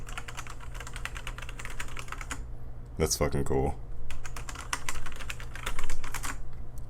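Fast, steady typing on a Logitech G910 mechanical keyboard clatters close by throughout, with a short burst of louder handling partway through and someone speaking excitedly over the keystrokes.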